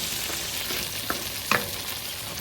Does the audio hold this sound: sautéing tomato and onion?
yes